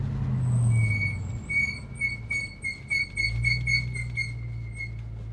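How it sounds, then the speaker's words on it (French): High-pitched squeal from the ceramic brake pads of an Audi RS4 B7, a steady tone repeating in short pulses as the car slows, over a low engine rumble that swells at the start and again near the end. "les freins, ils font du bruit parce que c'est des plaquettes céramiques"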